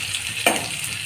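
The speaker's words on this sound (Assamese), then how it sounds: "টুকুৰাবিলাক ধুনীয়াকৈ ফ্ৰাইকৈ সিজিছে" Potato and jackfruit pieces fry in a wok with a continuous soft sizzle, and a single brief stir or scrape lands partway through, with no one speaking.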